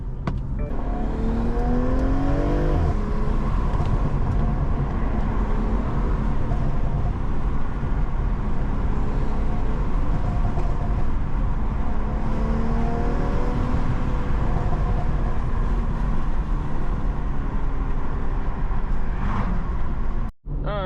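A BMW M340i engine drones steadily from inside the car while driving, with a window cracked, occasional rising gear changes and constant road noise.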